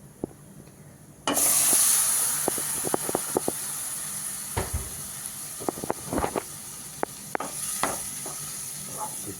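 Raw papaya stir-fry in a Kerala kitchen bursts into a loud sudden sizzle as it hits the hot pan, then keeps hissing steadily while sharp clinks of a spoon scraping and stirring sound repeatedly.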